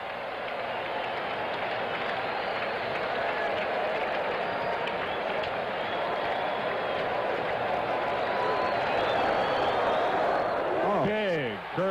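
A big stadium crowd at a Giants vs. Mets baseball game roars and applauds loudly and continuously, swelling slightly near the end, with a broadcaster's voice faint beneath.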